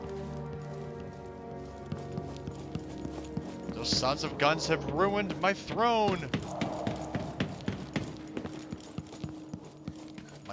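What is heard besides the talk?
loud footsteps in video game Dishonored 2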